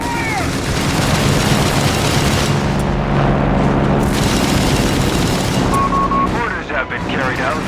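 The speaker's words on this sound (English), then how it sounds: "They're trying to hit us with rocket fire!" Rocket fire and heavy explosions from a 4v4 battle in the video game Company of Heroes 3 pound in loud, overlapping booms, with in-game unit voices shouting over the barrage.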